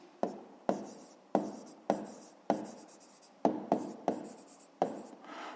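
A pen writing out a fifth-grade math exercise solution on paper, making a series of about ten crisp, evenly spaced scratchy strokes close up, with no talking.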